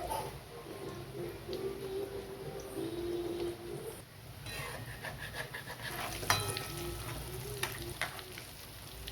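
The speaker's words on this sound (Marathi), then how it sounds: "तेल गरम झाल्यानंतर आपण वडे टाकू त्याच्यामध्ये" Sweet corn vada frying in hot oil, a steady soft sizzle and crackle running the whole time with a few brighter pops, close by and alone without talk.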